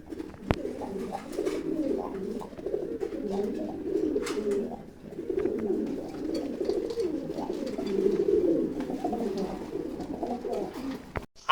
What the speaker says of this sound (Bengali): এর জন্য কবুতরটা একটু কম ডাকতেছে